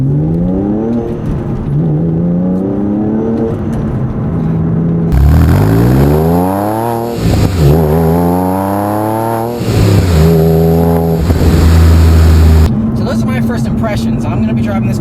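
A 2007 Porsche 911 Carrera Targa 4S with a manual gearbox, heard from inside while driving. The engine note climbs repeatedly through the gears in loud revving sweeps, and someone talks over it at the start and the end.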